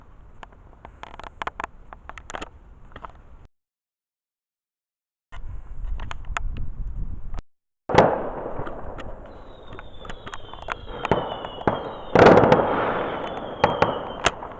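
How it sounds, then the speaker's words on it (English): Fireworks go off at night in Japan, heard from indoors: scattered sharp pops and cracks, then after a short silence a denser run of bangs with whistling rockets and crackling bursts, moderately distant. "It's 11 o'clock at night and there's people letting fireworks off."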